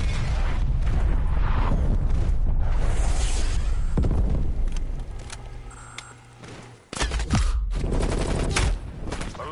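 Artillery strike explosions pound a Warzone match, heavy rolling booms and gunfire in a loud, continuous barrage that thins briefly before a sharp blast and renewed roaring.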